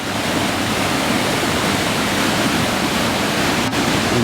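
A mountain stream rushes across a hiking-trail water crossing on a winter route over Snake Den Ridge, Maddron Bald and Gabes Mountain, giving a loud, close, unbroken wash of flowing water with no talking.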